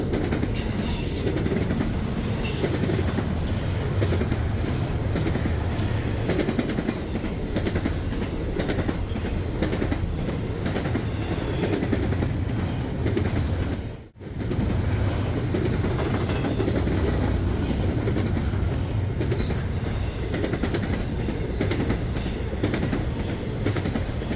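A long freight train carrying double-stack and single-stack containers rumbles steadily past nearby with continuous rolling wheel noise and clatter, staying loud throughout with one brief dropout midway.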